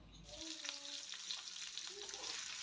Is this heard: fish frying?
yes